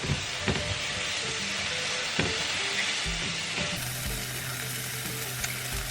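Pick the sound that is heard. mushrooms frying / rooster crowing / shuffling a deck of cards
mushrooms frying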